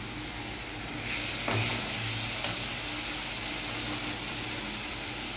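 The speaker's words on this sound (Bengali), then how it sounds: "আর দেখো বন্ধুরা, মা এখন চাটনি করছে, টমেটো দিয়ে চাটনি।" Tomato chutney sizzles and fries in a pan on a home stove, a constant bright hiss with occasional stirring scrapes, close and steady throughout.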